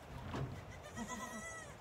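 A baby half-Kiko goat on a farm bleats softly, first one short cry and then a wavering drawn-out bleat, at a fair distance with no talk.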